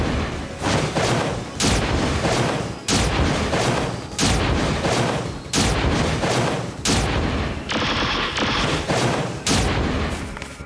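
Rapid bursts of gunfire from the Giga Strugment dash attack in the video game PSO2 NGS, loud dense volleys repeating in about six surges with brief gaps, booming and crackling, with no talk.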